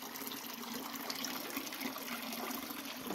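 Water gushes steadily from a traditional countryside water source, a continuous splashing flow that stays even and moderately faint, with no talk.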